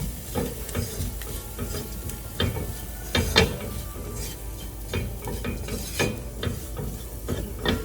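Paneer bhurji is stirred in a frying pan: repeated scraping and clinking of a spatula against the metal over a light sizzle, close and steady throughout.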